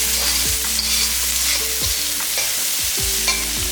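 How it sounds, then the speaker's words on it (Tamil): Small onions sautéed in a pan for an elephant foot yam tamarind curry, a dense continuous sizzle broken by repeated scraping strokes of the spatula, close and loud, with no voices. "போட்டு நல்லா வதக்கிடலாம்."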